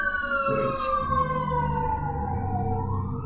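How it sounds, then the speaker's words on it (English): Fire truck and ambulance sirens wail with a slowly falling pitch as they pass, loud and steady over a low engine rumble, with a brief hiss near the start. "Sound like a fire truck and an ambulance going by."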